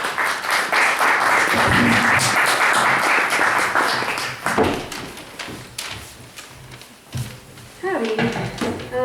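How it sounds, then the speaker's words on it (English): Audience applause at an open-door poetry night, loud and sustained at first, then thinning into scattered claps with some cheering and voices before a brief swell near the end. "So let's all give a big round of applause for Bailey."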